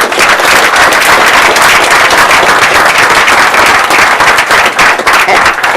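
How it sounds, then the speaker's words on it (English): Dense, steady applause from an audience at a school board meeting, loud and continuous throughout with no voices over it. "Let's give everyone a round of applause again."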